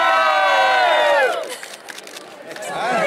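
A crowd at an election count in Ireland bursts into loud cheering and shouting, which tails off into scattered voices before rising again.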